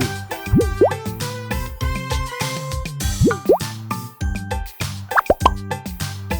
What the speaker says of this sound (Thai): แล้วก็มาตักบับเบิ้ลใส่แก้วกันเลย